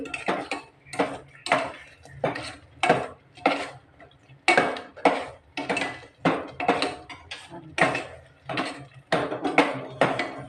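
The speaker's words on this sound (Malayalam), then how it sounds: "നല്ലത് ഇളക്കിക്കൊണ്ടിരിക്കുക അടിച്ചു പിടിക്കാതെ നല്ലതുപോലെ ഇളക്കി" Coconut-date payasam being stirred with ghee in a pan, a spoon scraping the pan in steady rhythmic strokes about once a second, close and clear with no talk.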